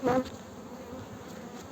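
Honeybees in a full hive give a brief louder buzz at first, then settle into a soft continuous hum nearby.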